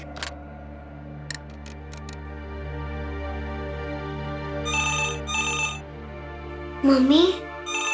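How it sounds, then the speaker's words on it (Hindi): A telephone rings in short electronic bursts over a low steady hum, with a brief voice calling out near the end. "फोन बज रहा है।"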